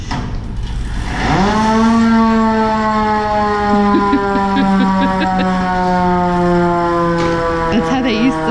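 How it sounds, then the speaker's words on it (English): An old fire station warning horn siren at the San Antonio Fire Museum winds up from low to a loud, steady wail and holds for several seconds, with children's voices faintly underneath. "horn. That's how they used to sound it."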